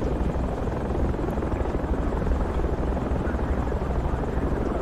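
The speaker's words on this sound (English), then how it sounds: "Get to the chopper!" Helicopter in the military shooter game Project Reality, a steady loud rotor and engine drone filling the whole stretch without break.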